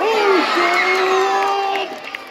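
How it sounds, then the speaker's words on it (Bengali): Crowd of students and teachers at a school ball-tossing game cheering and shouting for a teacher, a loud sustained mix of voices with whoops, tapering off near the end. "আসিফ স্যার জন্য করতালি হবে, জোরে করতালি"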